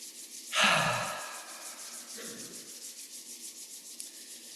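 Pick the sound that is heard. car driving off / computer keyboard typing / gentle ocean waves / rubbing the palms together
rubbing the palms together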